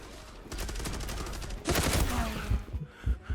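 Gunfire in the online shooter Zula: bursts of rapid shots crackle through the whole stretch, loud and close, with a heavier volley in the middle and scattered shots near the end.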